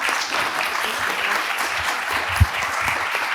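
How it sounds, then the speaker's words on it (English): Steady audience applause at a panel discussion fills the room, a dense wash of many hands clapping, with one louder thump partway through. "Can you give them a round of applause?"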